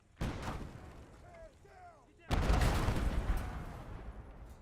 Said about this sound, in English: Watch out for that artillery!